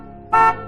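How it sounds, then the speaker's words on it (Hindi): A car horn honks outside a house in one short, loud blast, with a second toot just starting at the end. "घर के बाहर गाड़ी का हॉर्न बजाए जा रहे थे।"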